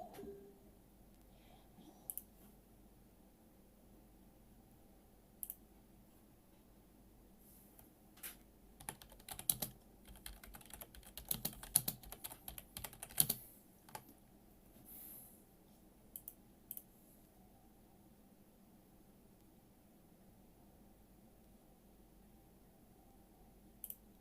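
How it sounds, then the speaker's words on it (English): Typing on a computer keyboard, quiet scattered key clicks that bunch into a quicker burst partway through, then thin out again, faint and close against a low background hum. "I was typing it in because I wasn't sure."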